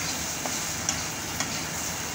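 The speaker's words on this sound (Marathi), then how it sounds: "आता ही चटणी ना चांगली परतून घ्यायची आहे।" Steady close sizzling of ground peanut and chilli chutney frying in oil, a constant hiss with a few faint clicks of stirring.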